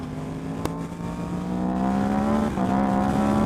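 Yamaha MT-10 motorcycle exhaust note while riding on a wet road, a steady loud engine drone with rising harmonic tones as the bike holds speed, one brief sharp tick early on.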